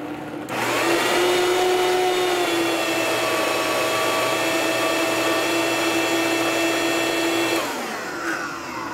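A blender runs steadily at high speed, pureeing a lemon and olive oil sauce; a loud continuous whine starts abruptly, holds for about seven seconds, then winds down near the end, with no talking.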